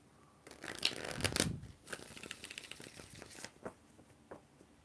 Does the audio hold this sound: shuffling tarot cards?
yes